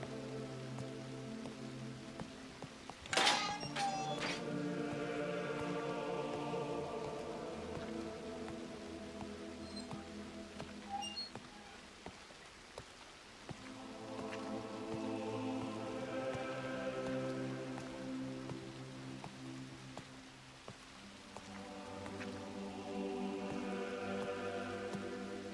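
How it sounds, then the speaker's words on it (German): Steady rain falling in the video game Frontier Stories, a soft continuous patter on surfaces that swells and eases in waves, with a brief sharp knock early on and no talking. "Es regnet schon wieder."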